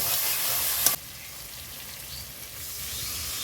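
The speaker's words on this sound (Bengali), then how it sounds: "এক চামচ ধনে গুঁড়ো, সব মশলাগুলোকে ভালো করে কষিয়ে নেব।" Ground spices such as cumin and coriander powder frying and being stirred in a pan for chicken do pyaza, with a steady close sizzle and a brief sharp clink near the start, alone without talk.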